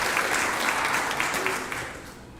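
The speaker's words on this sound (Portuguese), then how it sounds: "pode aplaudir ao Senhor com suas palmas" A church congregation at a Portuguese-language Easter worship service applauds, a brief, dense burst of clapping that fades out after a couple of seconds.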